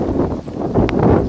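Wind buffeting the microphone on an open archery field, a rough low rushing noise that swells and dips, close and fairly loud.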